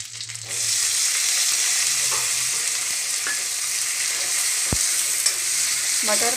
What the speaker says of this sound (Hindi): तेज पत्र के बाद मैं डालूंगी मटर